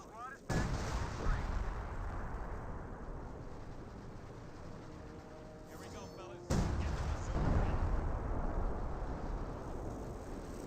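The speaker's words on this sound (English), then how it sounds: "I don't really think it's worth trying to use a priest barrage on a bunker, but he did." Priest artillery barrage pounding a bunker in Company of Heroes 2, heavy booming impacts rumbling continuously with a sharp burst near the start and another loud blast midway, under a caster's voice.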